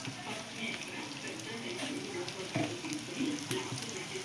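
Cumin and mustard seeds sizzle and crackle in hot oil in a pan for rasam tempering, a steady faint frying hiss with scattered small pops throughout.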